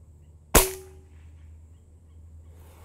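A Benjamin Maximus .177 air rifle fires a single pellet, one sharp close crack followed by a brief metallic ring that fades quickly.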